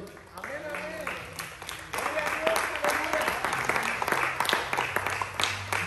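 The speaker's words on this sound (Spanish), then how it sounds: "Dale un fuerte aplauso a tu rey." Sustained applause from a large church congregation, steady and fairly loud, with a preacher's voice speaking over the clapping in Spanish.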